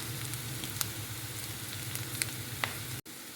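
Ingredients sizzle steadily in a hot pan before onion goes in, a continuous close crackle with a few small pops and no voices, ending in a brief cut.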